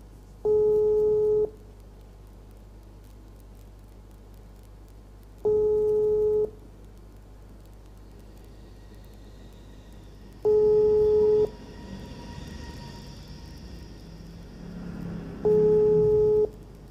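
Telephone line tone during a call, four evenly spaced one-second beeps about five seconds apart, clear and steady over a quiet line with faint background noise between them.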